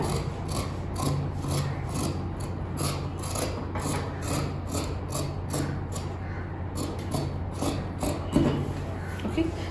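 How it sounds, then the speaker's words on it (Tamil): Scissors cut the front neckline of a fabric kameez up close, a run of regular crisp snipping and rubbing strokes over a faint steady hum. "ஸோ இப்போது இதில் வந்து நான் ஃப்ரண்ட் நெக்லைன் கட் பண்ண போகிறேன்."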